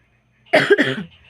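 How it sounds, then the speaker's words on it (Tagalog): A single sharp cough, close and fairly loud, in an otherwise quiet room. "Pasensya na kayo mga tol, inuubo ako."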